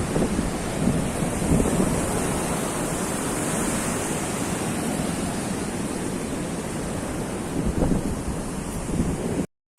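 Steady roar of ocean surf on a beach at Ujung Kulon, a broad continuous wash of breaking waves with wind buffeting the microphone, no voices.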